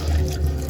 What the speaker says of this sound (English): pour out all the hot water